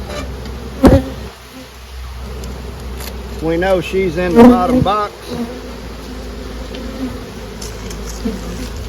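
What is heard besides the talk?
honey bees buzzing in hive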